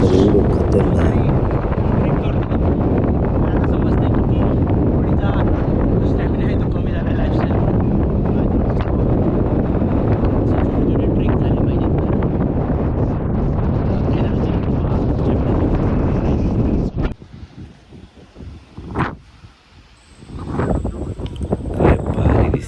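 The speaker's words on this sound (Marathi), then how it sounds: "आणि वारं जर बघितलं तर एवढं खतरनाक." Strong wind buffets the microphone on a hilltop in Konkan, a loud continuous roar and rumble that drops away near the end, where softer gusts and faint sounds remain.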